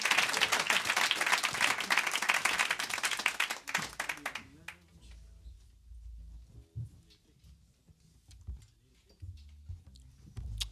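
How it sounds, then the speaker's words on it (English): Live audience applause welcoming a band at the Bing Lounge, a dense burst of clapping for about four seconds that abruptly thins into scattered claps and quiet room murmur. "Please put your hands together."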